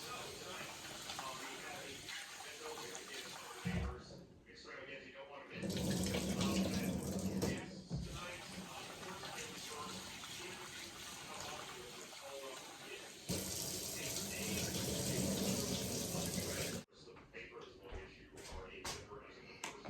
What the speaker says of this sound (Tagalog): So, lagyan ko lang siya ng tubig.